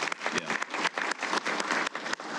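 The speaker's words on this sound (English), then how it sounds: "I just wanted to begin by offering her a round of applause and congratulations" Audience applause at a military retirement ceremony for a senior officer, a dense, steady wash of clapping from a roomful of people that runs unbroken from start to finish.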